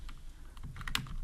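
Quick burst of typing on a computer keyboard, a handful of soft close clicks in irregular rhythm, faint and alone.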